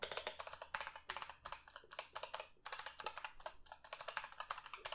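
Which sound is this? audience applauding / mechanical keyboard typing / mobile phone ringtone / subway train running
mechanical keyboard typing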